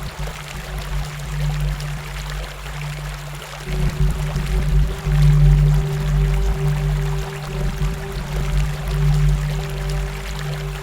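Water flowing in a canal, a loud, continuous rushing stream with a steady low rumble that swells partway through and stays dense to the end, heard alone without talk.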